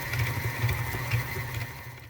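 An electric mixer creams sugar for biscotti dough, a steady, close mechanical whir with a rattling, grinding texture that runs continuously and cuts off abruptly at the end, with no talking.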